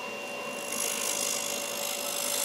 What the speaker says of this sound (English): Using the sharp roughing gouge and my finger down here on the tool rest as a guide